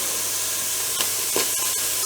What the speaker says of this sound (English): So as you can hear, it's already sizzling.